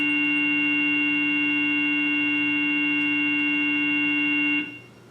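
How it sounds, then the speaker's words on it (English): A steady 440 hertz square wave tone produced in Mathematica, loud and constant for about four and a half seconds before cutting off, leaving faint background hiss. "What does it sound like when you increase its frequency overall to 440 hertz? It sounds like this."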